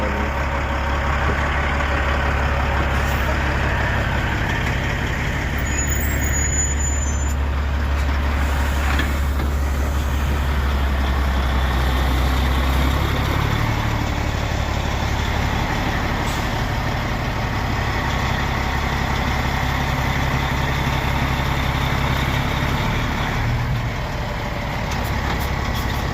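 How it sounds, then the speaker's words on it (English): A big truck rumbles steadily at close range, a deep continuous engine drone holding for the whole stretch with occasional faint background noises and no talking. "He's got a big old truck there."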